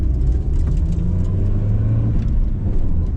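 1991 Nissan Silvia S13 with a 120-horsepower engine rumbling while being driven over gravel, a loud continuous low drone heard from inside the car with no talk.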